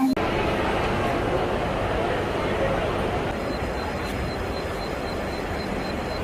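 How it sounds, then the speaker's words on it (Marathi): Siddheshwar Express train pulling into a station, a steady loud rumble of rolling wagons and platform noise with a faint high tone, continuous throughout. "मित्रांनो सिद्धेश्वर एक्सप्रेस आलेली आहे"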